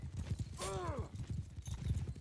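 Horse hooves clip-clop in a steady rhythm in Mount & Blade II: Bannerlord, with a loud whinny rising partway through, close and clear over faint game ambience.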